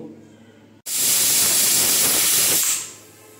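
A pressure cooker of chickpeas and potatoes lets out a sudden, loud, sustained steam whistle-hiss at close range. It lasts about two seconds before tapering off, after a quiet lead-in.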